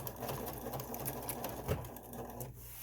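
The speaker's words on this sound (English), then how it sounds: "I'm going to start sewing from the point up here, and then I'm going to sew down" Sewing machine stitching a blue fabric face mask, starting at the point and back-tacking, a steady close mechanical whir of rapid needle strokes running continuously with a brief louder clack partway through, no talk over it.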